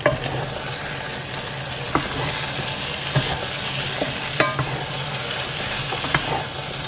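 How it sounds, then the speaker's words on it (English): Congolese palm nut cream cooks in a pot with a constant close sizzle and bubbling. Sharp clinks from stirring break in every second or so, and no one talks. "palm nut cream is cooking there"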